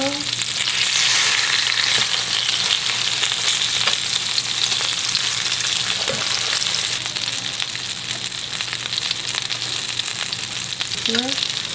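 Steady, loud sizzling of a salmon steak frying in a pan, a continuous crackle and hiss with a few faint clinks.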